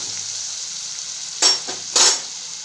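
Tomatoes and spices in a pan for a drumstick leaf curry, a soft steady sizzle with two louder bursts of stirring or scraping against the pan, close and without talk.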